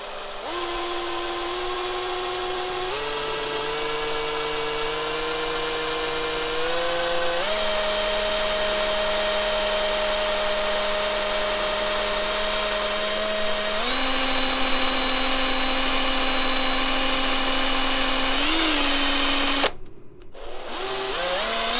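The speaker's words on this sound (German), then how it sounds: "Die werde ich jetzt mit einem ganz feinen Bohrer erst vorbohren und werde dann mit einem 5er Bohrer nachbohren." A fine drill bit bores a pilot hole into a motorcycle handlebar, a loud continuous whine whose pitch steps upward as the bit bites in, stopping abruptly near the end.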